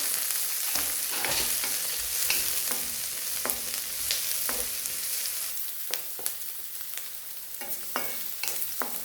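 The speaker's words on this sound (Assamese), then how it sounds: "পিঁয়াজখিনি ৰঙচুৱা পৰালৈকে মই অকণমান সময় ভাজিব লাগিব।" Steady sizzle of onions frying in a pan until reddish, with occasional sharp clicks and scrapes of a utensil stirring, close and continuous.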